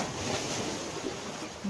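Steady broadband wash of Mediterranean Sea surf near a pier with wind noise on the microphone, continuous and fairly soft, no distinct wave breaks standing out.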